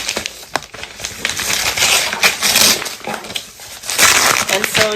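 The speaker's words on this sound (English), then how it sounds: "But we're just gonna go ahead and open this." Cardboard and paper packaging of a German Christmas gift box crinkles and crunches as it is opened, with close, irregular bursts of rustling and tearing.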